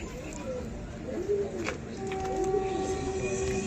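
A broad-feathered pigeon at a market sale gives soft, low cooing calls close by, with faint background noise.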